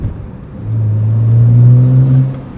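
BMW 135i with the N54 engine revving while the car sits idling with the clutch held: a deep engine drone that climbs and holds in a steady rev, close and loud, with no talking.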